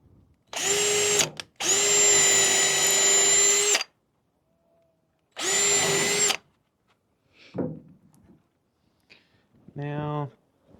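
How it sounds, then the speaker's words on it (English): A power drill fitted with a drill bit whines in three bursts, two close together and one after a pause, followed by quieter knocks and a short spoken remark at the end. "Drill with a drill bit"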